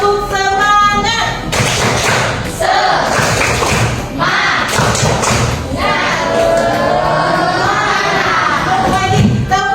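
A group of people performs the rhythmic spirit clap in an Indonesian school counseling session, loud close bursts of patterned clapping and chanting voices alternating with pauses, opening and closing with sung or spoken voices.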